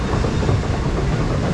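Amusement ride car at a Pompeii-themed attraction climbing a lift hill, a steady, continuous rumble with rail clatter running evenly throughout, close and fairly loud.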